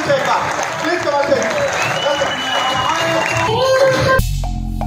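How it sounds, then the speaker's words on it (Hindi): Loud crowd applause fills a business conference hall, a dense continuous wash of clapping and cheering that cuts off abruptly near the end, replaced by a short musical tone. "जोरदार तालियों से एक बार प्लीज कमाल"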